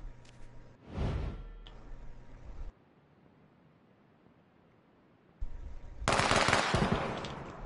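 Automatic gunfire in the shooter game H1Z1, two loud bursts of rapid shots with a quiet gap between them, the second burst longer and harsher.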